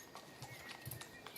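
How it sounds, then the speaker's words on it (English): Horses on a farm, quick hoof clip-clops in a short uneven rhythm, fairly close, with talking over them. "the sound what you hear right now, which is that of horses."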